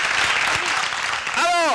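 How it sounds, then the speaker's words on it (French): Applause from a studio audience on a Burkina Faso television show, cheering the country's artists. Steady clapping runs throughout, and a voice rises over it near the end. "On va applaudir pour tous les artistes du Burkina Faso."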